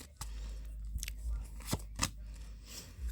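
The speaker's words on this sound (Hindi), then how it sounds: "Last shuffle. बहुत सारे कार्ड गिर रहे हैं।" Tarot cards are shuffled and a few drop in quick crisp flicks and slaps, close and fairly quiet, with scattered sharp snaps over a soft room background.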